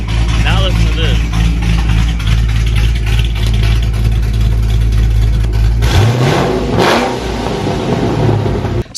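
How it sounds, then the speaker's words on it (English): A 1969 Ford Mustang with a 302 V8 and Pypes long-tube open headers rumbles loud and close at a steady, lumpy idle, then breaks into a sharp rev burst and falls back near the end. "So that sound was from the Pypes Performance Exhaust that you guys just heard."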